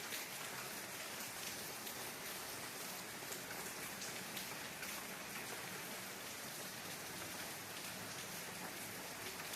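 Rain falls on green leafy trees under dark clouds and mist, a constant close hiss of drops that stays level from start to finish, with no talking.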